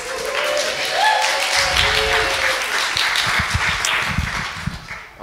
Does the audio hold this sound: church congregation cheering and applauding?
yes